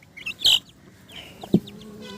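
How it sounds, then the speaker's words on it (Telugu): Four young Aseel chicks give a few short, high cheeping calls, close and fairly clear, with a lower clucking note near the end and no talk. "చూడండి ఫ్రెండ్స్, కోడి పిల్లలు అనేవి ఎలా ఉన్నాయో. 4 కోడి పిల్లలు."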